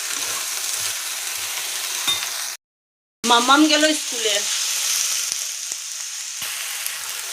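Greens with eggplant and beans cook in a pan with a steady close sizzle, broken by a short silent gap. Someone speaks briefly over it, and the frying hiss then carries on alone.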